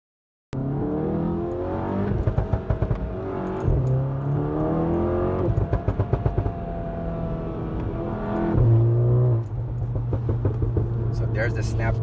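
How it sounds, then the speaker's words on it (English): A VW GTI MK7 with a Performance Pro 1 catback exhaust revs hard and accelerates, with sharp crackles and pops on lift-off between the pulls; the engine is loud and close, and a voice talks over it. "So there's the snap, crackle, pop right there"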